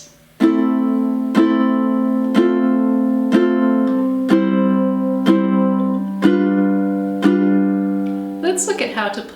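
A ukulele plays a song introduction that opens on a minor chord: a series of bright, ringing strummed chords, evenly spaced and loud, each left to sustain before the next.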